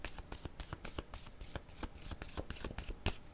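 Tarot cards being shuffled and drawn from a deck, close and crisp, with a steady run of quick riffling snaps and soft slaps, alone with no talk.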